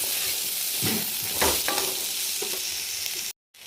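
Chopped garlic and onion fry lightly in oil for begun vorta, a Bengali mashed eggplant dish, with a dense, close sizzle and occasional stirring scrapes before the sound cuts off abruptly.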